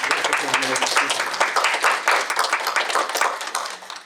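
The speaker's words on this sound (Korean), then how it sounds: "우리 박수로 칭찬해" A church congregation at Sunday worship claps in recognition, with crisp, closely spaced hand claps that come in uneven waves. A few voices can be heard faintly beneath them.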